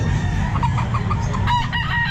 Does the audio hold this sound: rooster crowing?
yes